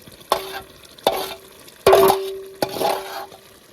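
Pav bhaji gravy with boiled vegetables is stirred in a pot, cooked outdoors on a farm in winter. Four distinct sweeping strokes scrape and slosh through the thick mixture over a soft sizzle, close and clear, with no talking.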